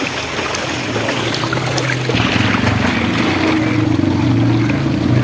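Steady loud roar of water at the Kakkadi waterfall in heavy rain, with a low engine-like rumble joining partway through, close and continuous.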